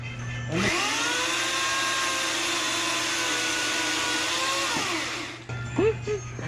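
A power saw makes a fresh cut across the bottom of a Christmas tree trunk at a tree lot. It gives a loud, sustained whining roar for about five seconds, then spins down, and brief voices follow.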